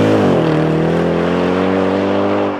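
Mercedes ML63 AMG with the 6.2-litre naturally aspirated M156 V8 revs in one strong, loud burst that holds a rich droning note, then settles and fades toward the end.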